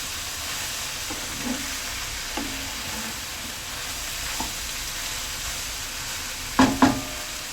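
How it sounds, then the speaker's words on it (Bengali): Whole garlic cloves frying in a pan with taro stolons and dried fish, a constant soft sizzle broken by a few sharp spatula scrapes and clinks, the loudest two near the end, with no talking. "গোটা গোটা করে রসুনটা দিয়ে দিব"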